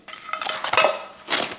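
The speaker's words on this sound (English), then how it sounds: "frying pan, right? Yeah. This is a skillet." A skillet clanks and scrapes against other metal as it is handled in a kitchen, giving a few quick, close metallic knocks and a ringing clang near the end.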